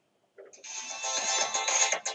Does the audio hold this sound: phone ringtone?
yes